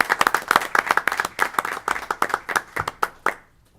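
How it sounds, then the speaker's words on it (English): A small crowd at a village board meeting claps for a few seconds, distinct close handclaps in an uneven rhythm that thin out and stop abruptly, leaving near silence. "Let's give one last round of applause."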